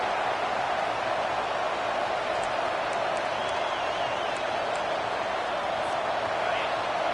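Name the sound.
football stadium crowd roaring to help the defense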